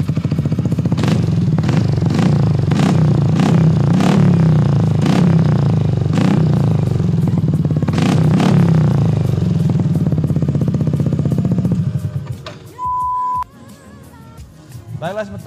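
A Yamaha NMAX scooter fitted with an aftermarket Polini Evo exhaust revs loud and close in a run of sharp throttle bursts over a rumbling idle for about twelve seconds, then the engine cuts back to near quiet.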